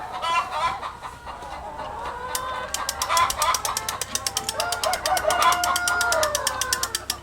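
Chickens cluck densely inside a poultry house, with a rapid rhythmic burst of repeated calls midway and a rooster-like crowing note, close and lively over a low background hum.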